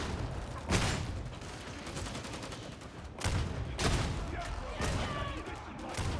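Repeated gunfire bursts in the video game Warhammer 40,000: Darktide, including bolter shots, cracking out at irregular intervals over dense, noisy combat ambience.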